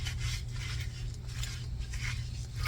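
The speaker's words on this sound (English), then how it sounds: "And you're gonna crumple it up again." Thin paper, soft like tissue or a napkin, being crumpled by hand, a close, quiet, continuous crackling rustle with no speech.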